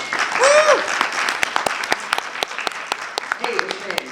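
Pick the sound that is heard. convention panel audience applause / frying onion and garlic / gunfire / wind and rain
convention panel audience applause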